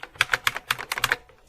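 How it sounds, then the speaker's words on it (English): Rapid keystrokes on a buckling spring keyboard, about ten sharp, loud clacks in quick irregular succession, close up and with nothing else heard. "it's a buckling spring keyboard, so it's really nice to type on."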